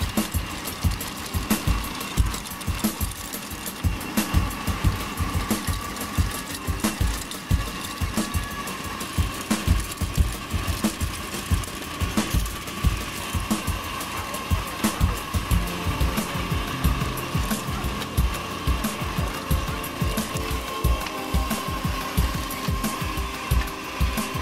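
Tractor hauling a mechanical vineyard weeding implement, an inter-row intercept hoe mounted between the wheels, gives a steady loud engine drone with dense rhythmic knocking and rattling throughout, close by and with no talking.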